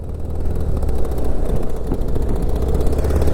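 A Hero Xpulse 200 motorcycle engine revving hard with the clutch pulled in, high up at Umling La pass, a loud continuous roar close to the listener with little talk over it.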